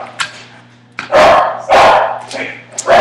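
Pet dogs at home bark a few sharp, loud times close by while being offered treats. A person talks between the barks.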